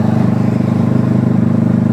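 A motorcycle fitted with an aftermarket exhaust idles and revs close by, its loud throbbing exhaust pulsing in a fast, even rhythm throughout.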